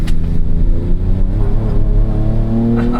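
A 2024 Ford Ranger Raptor, a long-wheelbase rear-wheel-drive truck of over 400 horsepower, accelerates hard with its rear wheels losing traction, producing a loud, steady engine roar with rising harmonic tones throughout.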